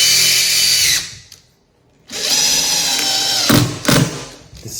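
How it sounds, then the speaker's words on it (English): A Makita oscillating saw cutting into a floorboard, loud buzzing bursts with a short pause and a few brief stops and restarts. "this is gonna be my guide for my Makita oscillation saw"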